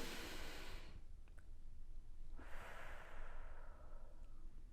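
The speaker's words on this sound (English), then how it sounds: "We'll breathe in through our nose and out through our mouth." A slow, deliberate breath, close and soft: an audible sniffing inhale through the nose, a brief pause, then a longer airy exhale out through the mouth.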